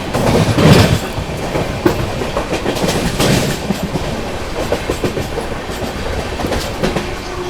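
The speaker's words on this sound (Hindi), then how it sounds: "overtaking समरसाता super fast express" A Samarsata superfast express train overtakes, its wagons rolling past loud and close with a steady clickety-clack of wheels over rail joints and a rushing rumble that lingers throughout.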